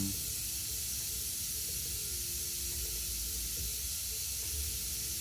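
Steady hiss of fluid being sucked out of a reservoir on a Volkswagen Touareg, a constant airy suction noise with a faint low gurgle beneath, close and uninterrupted.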